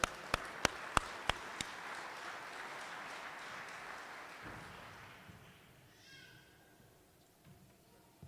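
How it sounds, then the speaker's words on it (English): A crowd applauds at a carpenters' union apprenticeship graduation ceremony. A few sharp, distinct claps open into a dense wash of clapping that gradually fades away, heard from across a hall. "Everybody, big round of applause."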